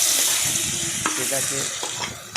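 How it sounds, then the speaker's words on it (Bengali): Potato mixture frying in hot oil in a wok, a steady broadband sizzle running throughout with scraping, clattering stirring strokes at irregular intervals, close and fairly loud, no voices. "তারপরে আমি সেটাকে ভালো করে নাড়াচাড়া করে ভাজলাম"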